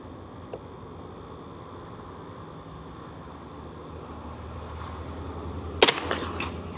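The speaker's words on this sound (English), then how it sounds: "one more shot" A rifle fires a single sharp, loud shot at an outdoor shooting range near the end, rising briefly over a steady hiss of background noise, with a faint click earlier.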